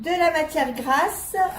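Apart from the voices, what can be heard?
No everyday noises stand out.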